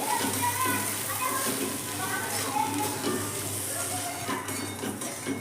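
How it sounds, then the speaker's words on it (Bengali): Semolina and vegetables are stirred in a pan over a continuous soft sizzle, with spoon scrapes against the pan close by and voices and children audible in the background. "এবার আমি সুজিটাও এর মধ্যে দিয়ে দিলাম সুজিটা দিয়েও সবজিটার সঙ্গে কিন্তু নেড়ে নেব"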